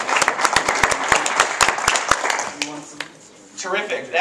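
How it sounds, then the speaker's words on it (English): Audience applause at a student brain science quiz competition, a burst of sharp, close claps for about two and a half seconds that quickly dies away, followed by quiet room noise and voices. "Demelina, a big round of applause."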